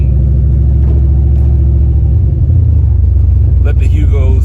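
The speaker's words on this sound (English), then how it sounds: "Need to do some part throttle pulls." Turbocharged Ford Mustang engine on part-throttle pulls, a loud steady low rumble heard from inside the car, with a brief dip in the middle, while someone talks over it.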